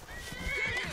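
A summoned ghost horse in the video game Skyrim gives a short, breathy neigh that rises and falls within about a second. It is heard over soft game ambience.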